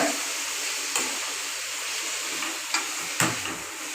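Boiled beef pieces get stirred into a coconut masala in a pan, a soft continuous sizzle with a few sharp scrapes and clacks of the spoon against the vessel.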